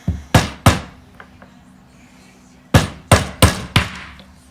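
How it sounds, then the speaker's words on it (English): An old Boosted Board wheel serves as a hammer to seat a new 105 mm wheel, striking the metal hub: two sharp knocks, a pause, then four quick close knocks, each ringing briefly with no speech. "Use the old wheel as a hammer."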